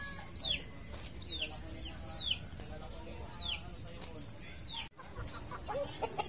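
Young roosters (stags) on a Filipino farm give a run of sharp, repeated clucks and short calls at steady intervals, fairly near, with faint talk and outdoor background.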